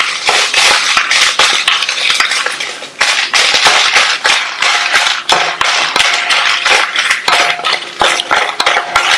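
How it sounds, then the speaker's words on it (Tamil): Dried red chillies are dry-roasted over medium heat in a pan while a metal spoon stirs them constantly, giving loud, rapid scraping clinks and rattles that continue steadily without pause. "இதுல 15 காஞ்ச மிளகாவை சேர்த்து மிதமான தீயில வச்சு இந்த மிளகாய் கருகிராம நல்லா மொறு மொறுன்னு வர வரையும் வறுத்துக்கலாம்."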